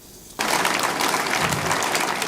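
Applause at a parade honouring the outgoing head of the Federal Road Safety Corps at its national headquarters in Abuja, bursting in abruptly after a quiet moment and continuing as dense, steady clapping from a crowd.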